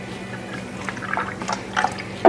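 Full fat milk pours into three eggs in a blender, a soft liquid trickle and splash close by, growing slightly toward the end with a brief louder burst.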